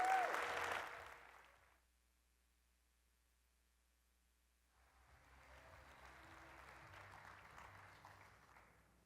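Applause from a conference audience welcoming the first keynote speaker: a loud burst of clapping that fades within two seconds, then a quiet pause before a softer, steady wash of crowd noise and clapping returns.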